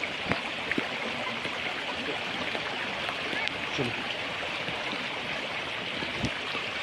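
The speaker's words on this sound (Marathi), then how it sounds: "त्या दोन्ही पाण्याच्या त्यातून पाणी पडत आहे" A steady stream of waterfall water pours and splashes continuously, with faint voices in the background and a few sharp knocks.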